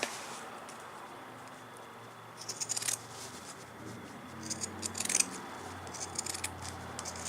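Scissors snip through fabric while trimming around an in-the-hoop Minnie appliqué zipper pouch, a few short crisp cuts in two quiet clusters against a low background hum.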